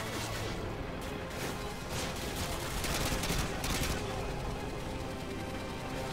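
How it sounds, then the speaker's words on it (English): An auto sentry gun turret in a video game firing rapid, continuous bursts, loud and dense with crashing impacts throughout and little pause. "an auto sentry gun"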